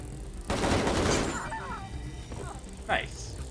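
Gunfire from the video game Wasteland 3 bursts out as a loud, rapid volley with a crashing, shattering edge and then fades, while a voice talks over it.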